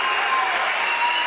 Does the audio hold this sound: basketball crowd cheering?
yes